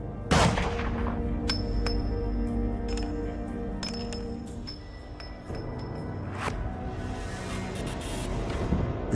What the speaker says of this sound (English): As the echoes of gunshots die down